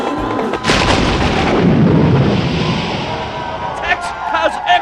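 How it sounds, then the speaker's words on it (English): A long, loud, rumbling comedic fart sound effect in a football-broadcast parody, sustained for several seconds with a blustery, booming texture before trailing off. "Ooh, a late flatulational infraction from Tex and a late flag from the ref"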